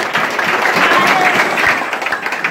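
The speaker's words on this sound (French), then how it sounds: "applaudissez le ciel. Applaudissez le ciel." A church congregation claps together in a brief, dense burst of applause, with voices mixed into the clapping.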